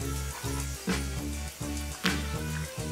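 Turmeric powder stirred into an onion and garlic tempering in oil for Bengali masoor dal: a constant low sizzle under a droning hum, with regular scraping strokes of a spoon roughly every half second, and nobody speaking.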